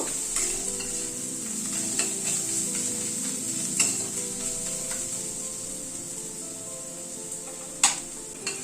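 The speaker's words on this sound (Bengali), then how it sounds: "গুঁড়ো মশলাগুলো একটুখানি পেঁয়াজের সাথে একটু নাড়াচাড়া করে নেব" Ground spices are stirred through frying onions in a pan: a steady close sizzle with repeated spoon scrapes and taps against the metal, one sharper knock near the end.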